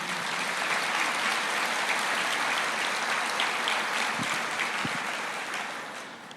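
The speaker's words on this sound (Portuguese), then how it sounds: "pode aplaudir." A church congregation applauds in a dense, sustained wash of clapping that holds steady throughout and tapers slightly at the very end, with no voices on top.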